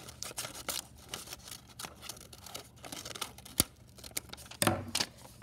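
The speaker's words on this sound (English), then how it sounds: "make a little cut, put my scissors through" Scissors snip through a paper mask to cut out an eye hole, giving a string of short crisp cuts and rustles of paper at close range, with no talking.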